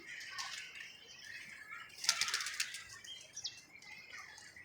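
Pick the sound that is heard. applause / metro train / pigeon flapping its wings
pigeon flapping its wings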